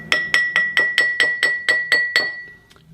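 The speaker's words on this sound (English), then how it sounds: "The hammer itself has got a little bit more weight to it, and so I think it gets a different sound." A drinking glass struck with an old, heavy great-grandfather's hammer rings out in nine evenly spaced bright clinks, each leaving a clear sustained tone that fades, close and alone.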